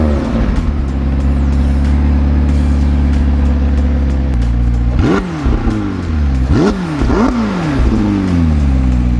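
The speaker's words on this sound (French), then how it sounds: "On va faire quelques petites accélérations les gars." A car accelerates hard across open desert ground, its engine droning loud and steady before three sharp revving surges rise and fall one after another, close and unbroken by voices.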